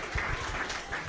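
A short burst of clapping from an audience at a Kiswahili arts event at St. Mary's school in Kawangware, greeting a student, steady and fairly close, with no talk over it.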